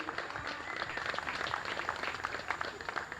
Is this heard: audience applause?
yes